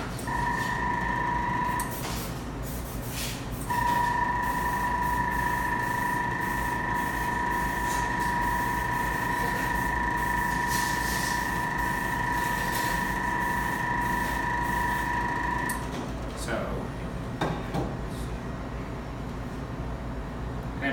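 A spray gun spraying colored chocolate, a continuous airy hiss with a steady compressor whine that runs in two long bursts separated by a short pause, over a constant low background hum with occasional clatter.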